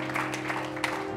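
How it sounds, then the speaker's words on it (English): A church congregation clapping in praise, a few scattered claps audible over a steady tonal hum, fairly faint. "Let's give the Lord a hand clap of praise today."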